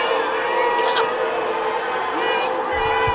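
A crowd in a legislative chamber reacts noisily as a representative walks in to vote, a loud, continuous mix of cheering, whoops and babble, with a few sharper shouts standing out.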